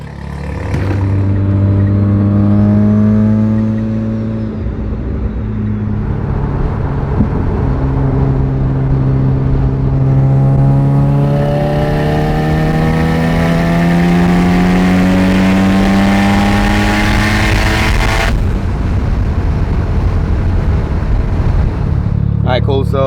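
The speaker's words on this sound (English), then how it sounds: "first thing we're gonna do is go take a ride in the new tuned FD" A tuned Mazda RX-7 FD rotary engine heard from inside the car on a test drive, droning and rising through repeated revs with climbing harmonics, loud and steady for most of the time, with talk over it at points.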